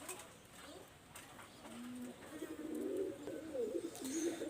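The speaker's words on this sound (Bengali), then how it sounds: "এখানে এক জোড়া কবুতর দেখাচ্ছে" Low, throaty coos from a pair of Omani-bloodline pigeons repeat in a soft series, growing a little louder toward the end against a quiet background.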